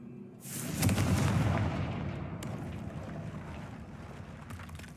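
A Confringo fire spell in Hogwarts Legacy goes off with one heavy, booming blast that rumbles and fades over a few seconds, with no voices.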